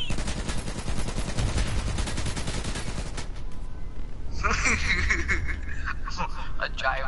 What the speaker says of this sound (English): Manny, shoot them.